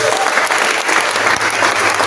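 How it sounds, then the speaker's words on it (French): Loud, dense clapping from a church congregation during a sermon, filling the space continuously for a couple of seconds with no pause. "On donne des acclamations."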